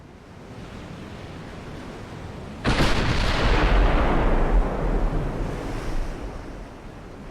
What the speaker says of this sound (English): Keep all my guns firing.